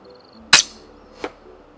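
A single loud, sharp competition rifle shot cracks out while hunting nyala at about 110 meters, its report fading quickly, followed about three-quarters of a second later by a fainter distant thump of the bullet's impact.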